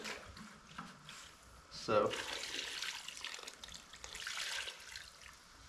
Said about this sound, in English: I'm gonna have to add a little bit more water.